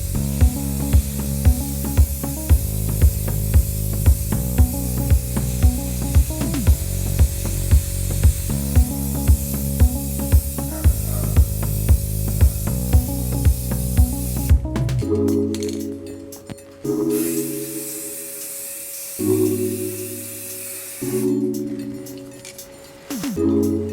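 Aerosol spray paint hissing onto Jaguar XFR mirror covers in repeated close bursts, with steady background music throughout and a few gaps between passes in the second half.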